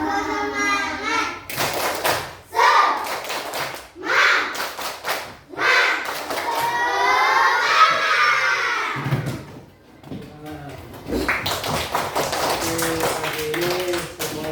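A classroom of children performs the 'tepuk semangat' clap chant during an ice-breaking session, rhythmic bursts of loud clapping alternating with chanted voices, with a teacher's counting and talk in between.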